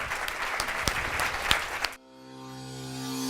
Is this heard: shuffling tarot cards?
no